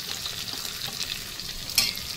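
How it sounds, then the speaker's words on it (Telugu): Onions and green chillies sizzle in oil in a pressure cooker, a steady quiet frying hiss with a brief stirring clatter near the end. "ఆనియన్స్ వచ్చేసి కొంచెం బాగా వేగాలి, అంటే లైట్ బ్రౌన్ కలర్ వచ్చే వరకు ఆనియన్స్ అయితే వేగాలి"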